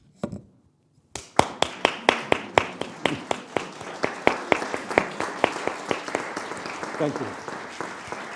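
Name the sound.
conference audience applause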